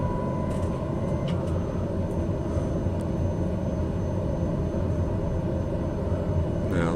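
Aircraft engine spooling during takeoff roll in Microsoft Flight Simulator 2020, on a VFR leg from Stornoway to Inverness: a steady, loud, broad engine roar and rumble held throughout with little change.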